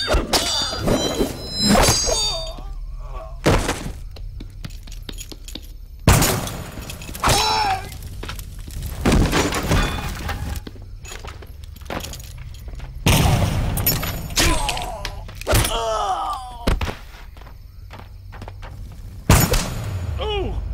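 Gunfire during a film fight scene: sharp, loud bursts and impacts scattered irregularly, mixed with shouting voices and other crashes in between.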